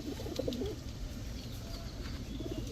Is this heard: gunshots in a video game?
no